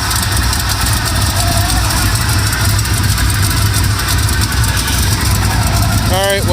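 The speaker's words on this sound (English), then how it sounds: "Got an exhaust leak over there. Well, I got headers" A K5 Blazer squarebody engine idles steadily with an exhaust leak at the headers, a loud, constant drone that runs unbroken throughout, ending in a brief higher squeal.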